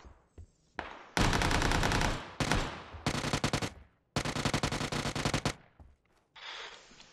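Close, loud bursts of gunfire ring out in several rapid volleys separated by short pauses, each burst a fast rattling string of shots, with no talking over them.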